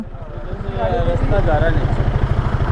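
Motorcycle engines idling in a highway traffic jam, a steady close putter with a regular pulsing rhythm, with voices faintly mixed in.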